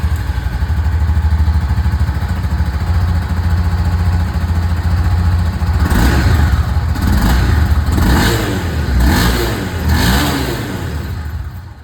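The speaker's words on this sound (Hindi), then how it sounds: "और मैं यहाँ पर आप लोगों को सबसे पहले ये जो एग्जॉस्ट साउंड यहाँ पर मैं आप लोगों को CB300F की सुनाना चाहूँगा।" Honda CB300F motorcycle exhaust, idling with a steady low rumble before a series of throttle blips that rev the engine up and down in quick bursts, loud and close with no talk.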